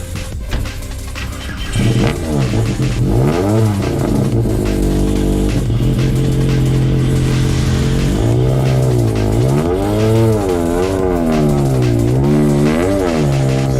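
Peugeot 106 Rallye rally car launching off the line on a wet gravel-free stage, engine idling then revving hard through repeated rising gear pulls, loud and close with no talk.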